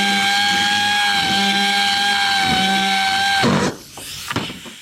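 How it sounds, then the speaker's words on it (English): A power drill bores out a threaded fuel fitting, a loud steady whine that dips slightly in pitch under load, then cuts off into quieter rattling and handling noises. "But I'm going to drill that out instead."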